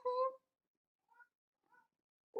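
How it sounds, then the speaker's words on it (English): A cat lets out a clear meow close by, followed by two softer, shorter meows and the start of another. "oh oh that's my cat."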